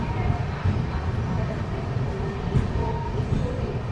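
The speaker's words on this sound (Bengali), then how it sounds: "আমাদের first first Kharagpur station finally train এসে পৌঁছালো" The Sealdah–Puri Duronto Express draws into Kharagpur station in a continuous, loud, low rumble of rolling carriages with no clear breaks, heard from close by.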